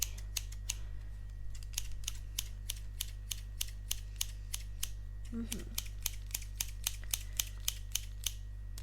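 Steady close-up snipping of scissors in an ASMR organ-removal roleplay: crisp, evenly spaced cuts repeat quickly across the whole stretch over a low background hum, with a brief soft rustle partway through.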